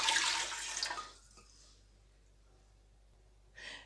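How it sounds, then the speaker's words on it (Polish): Water pours into a pot in a steady splashing rush for about a second, then fades to quiet, with a brief splash again at the end. "Mam tu przygotowany litr wody przestudzony. Wlewam do tego."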